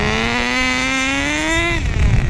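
A nitro RC engine fitted with a JH1 stainless steel tuned pipe holds a loud, buzzing high rev close by, climbing slightly in pitch before cutting off abruptly.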